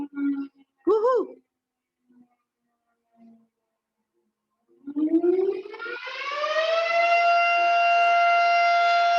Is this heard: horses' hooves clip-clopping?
no